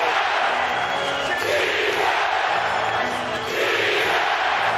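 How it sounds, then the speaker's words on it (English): Basketball arena crowd roars and cheers continuously after a step-back three-pointer in an NBA playoff game between the Dallas Mavericks and Utah Jazz, a dense, loud wash of voices with a brief dip near the end. "Listen to this crowd."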